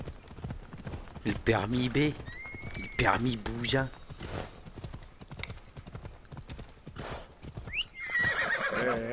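A horse in Assassin's Creed Odyssey trots with rapid hoof clip-clops and gives loud whinnies near the start and end. A player talks over the hoofbeats throughout.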